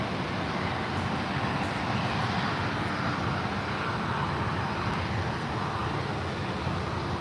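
An aircraft at San Francisco International Airport gives off a steady, broad jet roar at moderate distance that holds evenly throughout with no talk.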